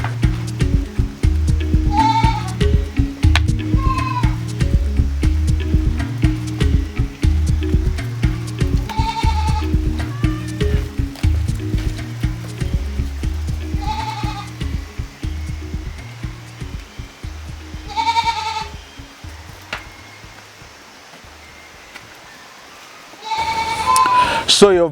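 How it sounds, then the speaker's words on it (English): Goats on a farm bleat intermittently as they file into a holding pen used for spraying during the rainy season, the calls rising over a steady mechanical drone and rhythmic background music. "the goats were entering inside the containing area where we spray from"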